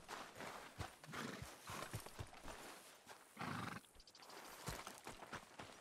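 Horse sounds from Red Dead Redemption 2 gameplay: busy clip-clopping hooves and a whinny over constant outdoor game noise, loud and close throughout.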